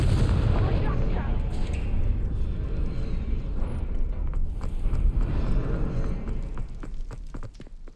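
The Confringo blasting spell erupts in Hogwarts Legacy as a loud, dense, continuous roar of rumbling blasts that stays heavy for the whole stretch before thinning slightly at the end.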